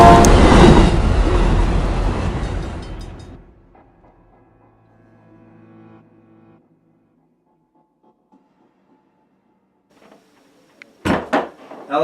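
A train thunders past at close range for about three seconds, then its roar fades into near silence, with a few short clattering bursts near the end.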